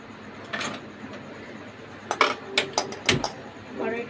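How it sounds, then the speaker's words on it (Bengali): A metal wok (kadai) set down on a kitchen stove, a few sharp clanks and scrapes in quick succession after quiet room tone, close and fairly loud. "এবার আমি কড়াইটা বসাবো।"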